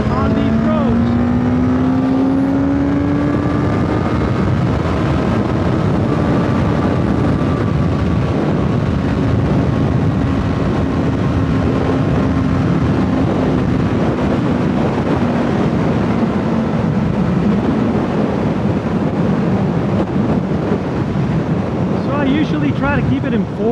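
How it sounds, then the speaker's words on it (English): A 2023 Suzuki GSX-S1000 motorcycle engine drones steadily on a twisty road, its revs rising and holding high under heavy wind rush, with a loud, continuous roar from start to finish. "well, I'm revving it a little bit too high, and it just makes a lot of noise, which is great sound"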